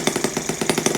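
A Stirlingkit N12b model engine runs close up with a fast, even chuffing beat, roughly eight pulses a second, rhythmic and mechanical throughout.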